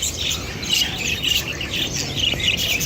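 A parrot squawks and chirps at a Hong Kong bird market, with harsh, repeated high calls over steady market background noise and other birds twittering nearby, fairly close and continuous.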